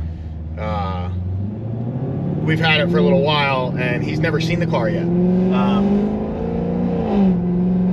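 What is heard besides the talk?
1150HP Cadillac CTS-V accelerating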